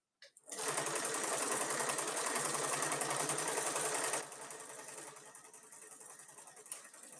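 A sewing machine runs fast and steady while stitching the last row of a mini tote bag, close and loud for about four seconds, then slows to a lighter whirring.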